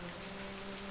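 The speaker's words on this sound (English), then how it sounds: "That's a downpour, man. That's like a downpour noise." Heavy rain pours down in a video game, a dense, steady hiss of water covering everything, loud and unbroken with no other sounds.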